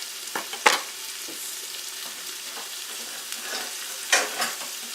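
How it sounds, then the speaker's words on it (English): Tomato soup ingredients with fresh basil cooking in a pan, a soft steady sizzle broken by a few scraping stirs and light knocks of the utensil, close and fairly quiet with no talk. "Let's just stir this around so it continues to cook."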